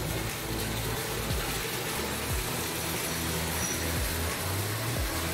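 A pool's waterfall feature runs in a home's outdoor gourmet area, giving a steady, broad rush of falling water that stays constant throughout, with no one talking.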